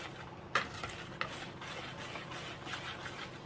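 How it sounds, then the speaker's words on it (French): A whisk stirs cake batter in a bowl, quiet scraping and tapping strokes with a couple of sharper knocks against the side. "Voilà, je mélange."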